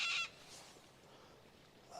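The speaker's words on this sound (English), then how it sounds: "Those birds, you can hear them." Birds, likely geese, give a short burst of honking calls at the start, then fade to a faint, quiet outdoor hush at a landscape photography location.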